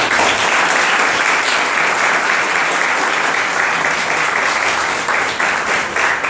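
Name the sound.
loud audience applause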